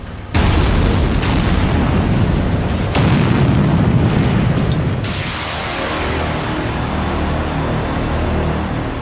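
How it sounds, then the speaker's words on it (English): Rock blasting in a tunnel fires off a loud, heavy boom right away. A second blast follows about three seconds later, then a long roaring rumble that slowly settles into steady low noise, with no voices. "capable of choreographing an explosion so potent it can remove a perfect circle of rock up to 19 feet thick."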